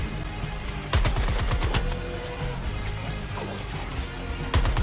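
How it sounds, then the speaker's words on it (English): Gunfire in the video game Suicide Squad: Kill the Justice League, rapid loud bursts of automatic shots with sharp impacts over game sound, continuous for several seconds. "Excuse my bullet spread, Deadshot."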